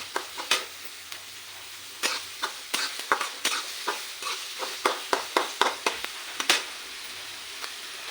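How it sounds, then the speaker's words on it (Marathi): Garlic and onion sautéed in a pan for kis kanda bhaji, a low sizzle under a long series of crisp spatula scrapes and taps, close and fairly loud, quickening in the middle and thinning toward the end, with no talking. "लसूण पण छान असा परतला आणि कांदा पण आपल्याला गुलाबी रंगावर छान परतून घ्यायचं"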